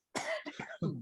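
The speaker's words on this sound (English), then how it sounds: "Excuse me for the coughing" A short run of three harsh coughs, close and fairly loud, the last one heavier and rougher than the first two.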